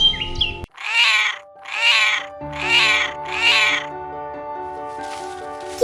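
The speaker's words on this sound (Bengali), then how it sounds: "কি বিড়াল ভাই অমন করে ডাকছে কেন?" A cartoon cat gives four evenly spaced, drawn-out meows, loud and close, over a soft backing of sustained musical tones.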